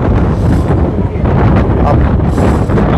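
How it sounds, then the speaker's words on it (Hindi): Strong wind buffets the microphone atop the Burj Khalifa at night, a loud, constant roaring rush with gusty swells and no voices. "और यहाँ जितनी हवा चल रही ना भाई,"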